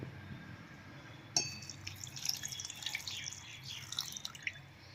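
Water splashes and trickles into a blender jar of amla after a sudden start, gurgling unevenly with small bright drips throughout.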